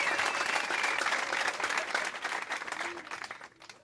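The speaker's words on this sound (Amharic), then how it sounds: "ለኢየሱስ እስቲ በደንብ እልልታችሁን ጭብጨባችሁን ይገባዋል።" A church congregation bursts into loud, sustained applause mixed with high ululation, a dense roar of clapping that carries on before thinning out toward the end.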